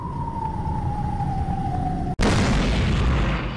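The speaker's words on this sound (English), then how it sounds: "An explosion rang out and Primavera shook." A steady high ringing tone hangs for about two seconds, then cuts off abruptly into a loud, sustained explosion blast with a heavy rumbling low end.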